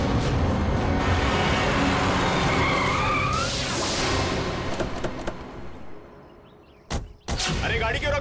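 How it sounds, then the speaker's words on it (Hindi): A vehicle skids hard with a long tire squeal that fades out, followed by a couple of sharp thuds and a brief pause before street noise returns, loud and close. "अरे गाड़ी क्यों रोक दी?"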